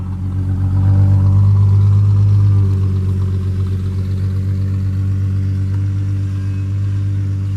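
The engine of a 1967 Plymouth Barracuda driving for the first time in 30 years, with a sticking throttle. It swells into a loud, close rev and then settles into a steady, throbbing mid-pitched drone.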